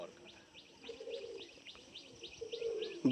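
Baby Madrasi pigeons with deep eyes, at a pigeon sale in Kolkata, give soft coos and light chirps, repeated in a gentle, irregular pattern close by, with a louder burst at the end.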